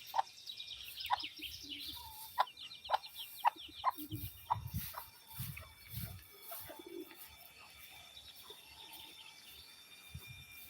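Clucking and short calls from a rooster and hens, a steady run of sharp bursts over low scuffling and soft background chatter of birds.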